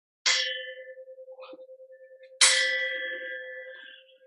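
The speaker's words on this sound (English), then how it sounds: "The bell invites me." A bell rings out twice in a quiet room, each clear metallic strike followed by a long, slowly fading ring, with a faint softer tap between the two strikes.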